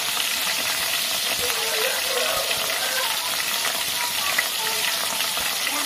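Asafoetida (hing) frying in hot oil, a steady, dense hiss of sizzling that holds evenly throughout with no talking.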